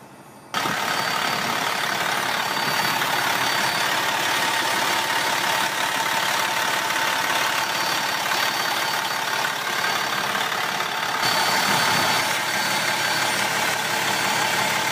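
A 2004 Freightliner Columbia CL120 truck with a Detroit 60 series diesel engine idles steadily and loudly, a constant rumbling drone with no talk.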